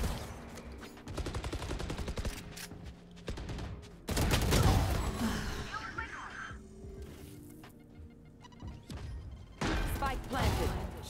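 Gunfire in the tactical shooter game Valorant, with rapid bursts of rifle shots crackling through a busy mix, heaviest in the middle, while players talk over it.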